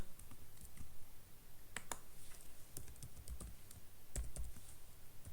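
Irregular clicks of typing on a computer keyboard during a Python programming lesson, close and quiet, with scattered key presses, short quick runs and brief pauses.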